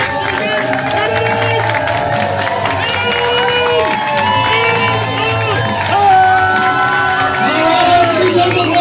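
A crowd cheers and claps at a live main event stage show, a dense steady roar of voices and applause with shouting and music-like tones running throughout, loud and unbroken.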